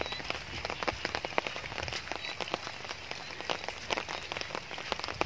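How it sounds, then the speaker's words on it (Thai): Steady rain pattering on a water spinach paddy field under overcast skies, a dense continuous patter of drops close by with no voices. "ครึ้มฟ้าครึ้มฝนครับวันนี้ฝนระรึมนี่นะครับ"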